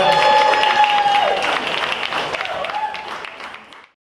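An audience applauds for Janelle Fraser at the close of a Carnival-themed interview show, a steady wash of clapping blended with tonal sound at the start that gradually fades out.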